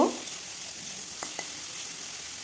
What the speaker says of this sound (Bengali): সরিষার তেল দিয়ে দিলাম শুকনো মাছগুলো এখন ভেজে নেবো এইভাবে বেশ কিছুক্ষণ সময় ধরে ভেজে নেব